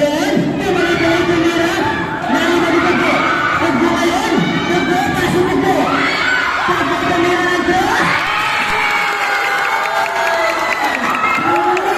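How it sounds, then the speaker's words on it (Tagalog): Loud crowd at a neighborhood basketball final between Purok Mangga and Purok Baybay in the Philippines, cheering, shouting and whooping continuously with children's high voices mixed in, dense and close throughout. "The crowd here is so amazing."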